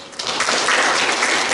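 Audience applause at a children's council plenary session in Changwon, a short burst of steady, fairly close clapping from a seated crowd with no voices over it.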